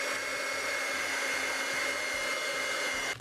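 Heat tool blowing hot air to set Ranger black embossing powder, a steady loud fan whir lasting a few seconds before cutting off.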